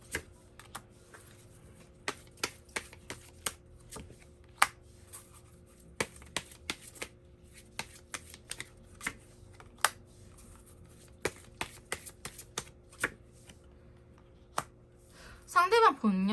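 Tarot cards are handled and drawn in a quiet room, giving sharp separate clicks and flicks at irregular intervals with brief pauses between, and a short rustle of cards at the end.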